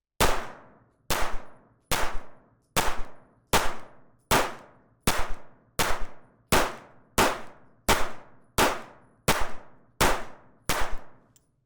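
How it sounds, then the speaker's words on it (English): Fifteen shots from a Kimber 2K11 stainless compensated pistol crack out at an even, unhurried pace, each a loud sharp report with a brief ringing tail, close and with no talk. "first 15 rounds downrange, no issues whatsoever in the Kimber with the first magazine"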